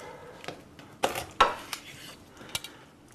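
Knife work on a turkey wing, cutting through the joint to remove the wingtip, with a few sharp clinks and scraping cuts against a hard surface, close and fairly quiet, no talking.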